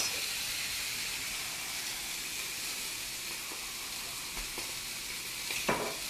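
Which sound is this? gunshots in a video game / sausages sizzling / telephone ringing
sausages sizzling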